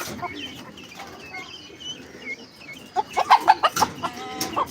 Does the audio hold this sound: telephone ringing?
no